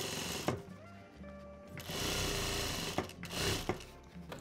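A sewing machine stitches a denim handbag seam in steady running bursts that start and stop as the fabric is turned, close and mechanical, with no voices.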